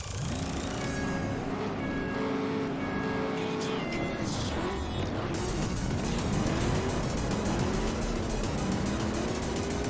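Race cars in the Juiced video game roar past one another while overtaking. Loud, continuous engine whine with rising and falling revs runs the whole time under a constant noise bed, with no talking.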